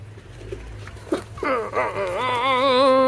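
A pigeon being released gives a drawn-out, wavering coo that rises after a brief rustle of movement. It grows louder and holds steady close by, with no talk.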